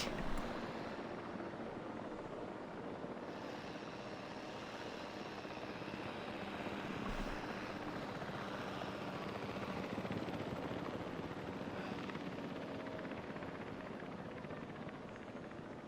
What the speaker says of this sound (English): Please stand by for the returning helicopter.